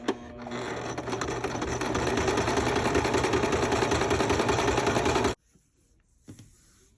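A sewing machine stitches fabric bunny pieces together in one steady, loud continuous run of rapid needle clatter for about five seconds, then stops abruptly, leaving near silence.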